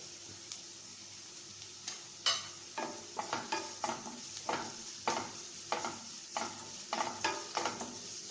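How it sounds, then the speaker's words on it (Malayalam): Sliced onion and chopped green chillies sautéing in a pan for a Kerala-style brinjal and okra curry, with a steady soft sizzle and repeated spatula scrapes and stirs knocking against the pan at an even rhythm, close up with no talking. "നല്ലവണ്ണം വഴറ്റിയെടുക്കണം. ഇപ്പോൾ ഉള്ളി വഴണ്ടി വന്നിട്ടുണ്ട്."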